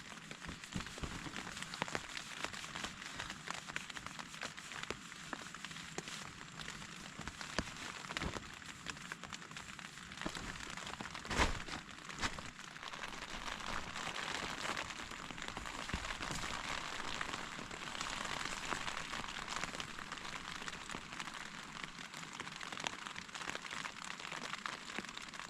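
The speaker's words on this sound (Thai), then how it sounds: "ฝนเสาตกแล้วทุกคนเอ้ย" Heavy rain falls on a forest camp beside a small river, a steady, soft, even hiss that runs without a break, with scattered sharper drop taps and faint crackles.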